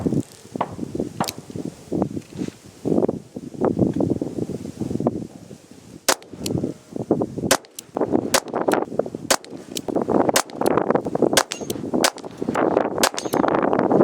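A Smith & Wesson 317 AirLite .22LR revolver fires CCI Mini Mag 40-grain round-nose ammunition, with sharp, snappy shots spaced irregularly and quickening into a denser string toward the end, with faint rustling between them.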